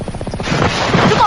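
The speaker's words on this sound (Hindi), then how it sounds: "हेलीकॉप्टर?" A helicopter thrums with a rapid, loud rotor chop that builds into a dense, roaring wash of noise over about a second, heard close with no talk.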